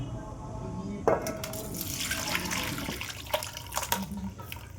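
Water poured into a pot of chicken handi, a steady splashing, filling pour close by that begins abruptly and continues throughout with a few small knocks.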